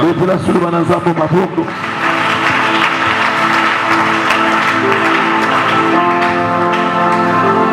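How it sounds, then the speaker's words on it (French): A church congregation at a Wednesday service applauding, a dense, sustained wash of clapping that fills the room for several seconds, with voices and a few cheers mixed in near the start. "Acclamons encore cette parole"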